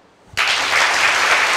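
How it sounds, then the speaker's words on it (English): An audience at a spirituality talk bursts into clapping after a brief quiet moment, a dense, loud, sustained burst of many hands together. "everybody can you clap?"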